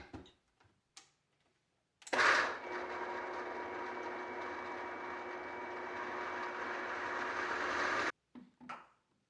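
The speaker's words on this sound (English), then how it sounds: "So you can see here it stops blending, it gets too thick." A blender whirs through a thick plant-based lentil mixture for about six seconds, a steady mid-pitched motor drone that starts abruptly and cuts off, with a few brief clunks before and after.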